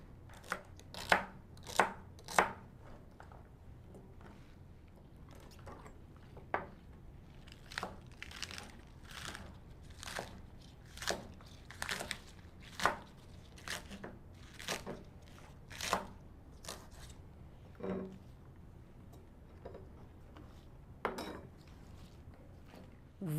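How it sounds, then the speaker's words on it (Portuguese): Leek and celery being chopped into rounds with a knife on a cutting board while preparing a turmeric chicken dish: a series of sharp, close knife strikes, irregular at first and then more regular, with pauses between them and no talking. "Vamos começar por picar os alho poró e o salsão em rodelinhas de 2 a 3 centímetros."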